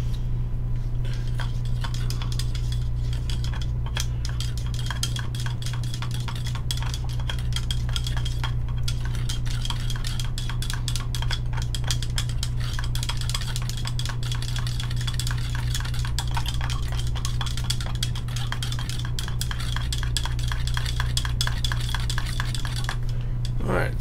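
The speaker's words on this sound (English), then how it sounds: "So we got that stirred up." Smooth Cast 300 liquid plastic resin stirred in a cup, a steady run of close scraping and light clinking strokes over a constant low hum, with no talking.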